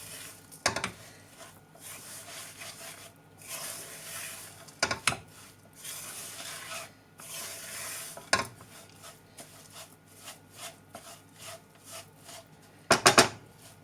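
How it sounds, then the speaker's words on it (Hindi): Besan panjiri with almonds being stirred in a pan with the heat off: soft scraping and rubbing with a few sharp clinks of a spoon against the pan, spread across the clip with no talking. "अब इसको अच्छे से मिक्स करेंगे।"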